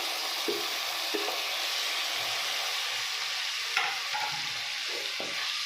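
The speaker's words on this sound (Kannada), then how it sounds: "ಹಾಕೊಂಡು ಫುಲ್ ಸಾಫ್ಟ್ ಆಗೋವರೆಗೂ ಫ್ರೈ ಮಾಡ್ಕೋಬೇಕು." Chopped tomatoes sizzling in oil in a pan for brinjal palya, a steady loud frying hiss with occasional stirring scrapes and no talking.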